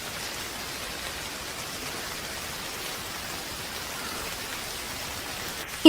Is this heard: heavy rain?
yes